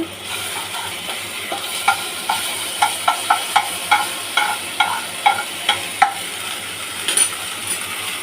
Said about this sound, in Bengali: কালো জিরে ফোড়ন দিলাম, ওতে একটু রসুন পেস্ট করা ছিল, রসুন পেস্ট দিয়ে দিলাম।